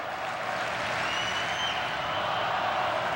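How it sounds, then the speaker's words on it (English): Crowd at a 1984 Syracuse versus Army lacrosse semi-final, clapping in rhythm and chanting, heard as a steady, distant wash of stadium noise that holds level throughout. "And some rhythmic applause and a chant of "Let's Go Orange," reminiscent of basketball season."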